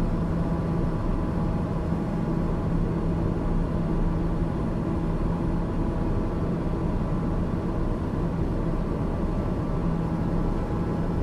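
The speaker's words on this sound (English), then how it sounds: "Start to slow our aircraft down a little bit." TBM turboprop aircraft flying in Microsoft Flight Simulator 2020 on approach to Jackson Hole, Wyoming: a steady, loud, unbroken engine drone with airflow hiss, no voices.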